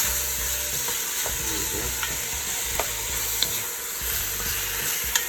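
Meat for chili frying in a pan, a steady close sizzle with a low hum beneath and occasional light clicks and stirring scrapes.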